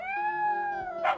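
A cartoon puppy gives a long, drawn-out high whine or yip that holds steady, then ends in a short, brighter burst, close and alone with no talk over it.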